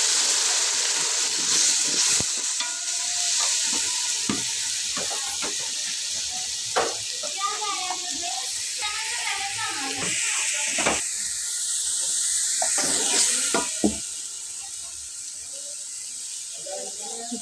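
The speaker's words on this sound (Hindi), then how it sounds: "अब ये तड़का लग रहा है। इसके अंदर हमने लहसुन अदरक का जो पेस्ट है वो डाल दिया।" Tadka of garlic-ginger paste and spices hissing in hot oil, a steady close sizzle with occasional sharper crackles and stirring scrapes throughout.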